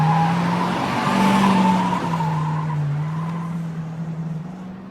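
A car pulls away in a straight line, its engine whining in a steady tone with a slight tire squeal, gradually fading as it moves off into the distance.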